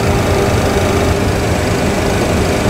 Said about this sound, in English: Wait for the APU to start,